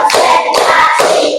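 A classroom of pupils in an Indonesian teacher-training lesson claps hands in a counted clap: three sharp, evenly spaced group bursts, close and loud.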